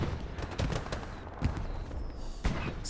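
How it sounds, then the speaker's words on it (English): Gunfire and explosions roll through a Hell Let Loose battle on Kharkov, a dense stream of cracks and several heavier booming thuds, moderately loud and continuous. "Explosion removes everybody."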